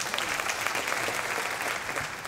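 Brief, fairly faint audience applause at a senior women's pageant, a continuous wash of clapping from a crowd lasting just over two seconds.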